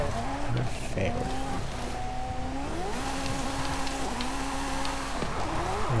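Tires squeal and skid as the front brakes lock up on a car in Forza Horizon 5, a sustained wavering screech over a loud engine drone, with short pitch swoops, continuous and close.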